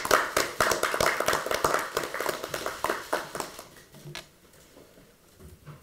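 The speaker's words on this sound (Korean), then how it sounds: "우리 모두 박수로" Applause at a political party's leadership meeting: a fairly short burst of clapping from a group, brisk and moderately loud, that thins out and fades to a few scattered claps near the end.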